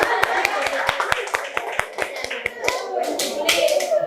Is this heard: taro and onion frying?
no